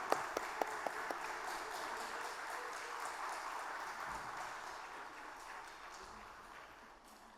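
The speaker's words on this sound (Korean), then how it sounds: "더 큰 박수로 우리 친구들 축하해 주세요" A church gathering of families claps for the children at an early morning prayer service, a moderate, fairly quiet patter of applause that gradually fades toward the end.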